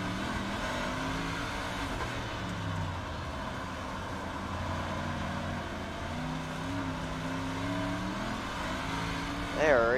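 Big block modified race cars roar around the Cedar Lake track in a continuous, rumbling engine drone, with a sharp revving rise in the final second.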